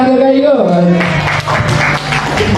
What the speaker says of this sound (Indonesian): Tepuk tangan ke Kak Igo.